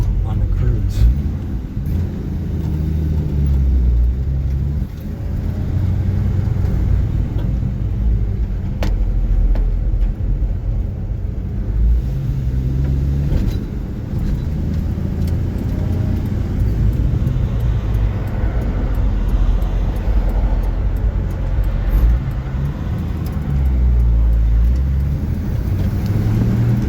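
A 1965 Chevy C10 with a freshly tuned carburetor runs steadily throughout, a continuous low engine drone with slight swells, while a voice talks over it at intervals.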